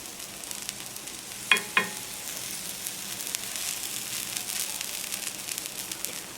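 Leftover-rice batter sizzles in oil on a pan, a steady soft hiss with a couple of sharper clicks early on, close and alone without talk.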